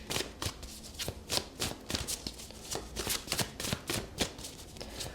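Tarot cards are shuffled close up in a quick irregular series of papery riffles and slaps, crisp and fairly quiet, with no voice.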